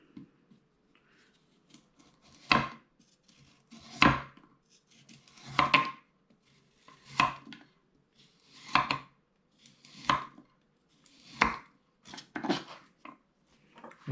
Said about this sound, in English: Just cut in an angle like that.